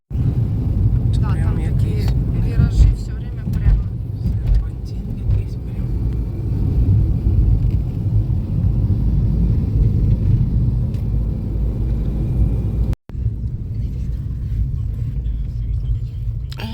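A car cruises along a highway in Ukraine, heard from inside as a loud, steady low road rumble and engine drone throughout, with people talking over it.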